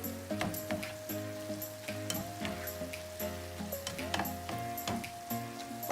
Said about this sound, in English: Stir it one more time.